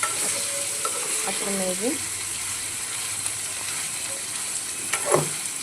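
Paneer frying in a pan for paneer bhaji, a steady soft sizzle with stirring and utensil scrapes, heard under a voice speaking in Kannada.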